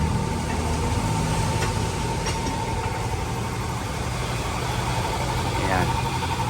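A Nissan Urvan van's engine idles in a steady, even drone close by, with a faint high whine running through it and voices talking over the hum.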